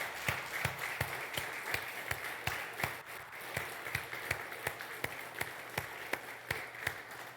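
Congregation in a church service clapping after worship, a steady sparse rhythm of individual hand claps over a reverberant room murmur, moderately loud and continuous, no one speaking.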